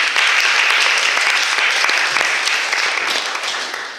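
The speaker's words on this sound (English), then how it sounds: "please put a round of applause" A lecture audience at Sydney University applauds loudly and steadily for four seconds, the dense clapping tapering off slightly at the end.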